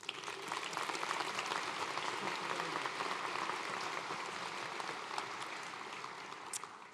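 Sustained audience applause at a 2018 graduate school commencement, a dense steady wash of many hands clapping that holds at an even level throughout with no voices above it.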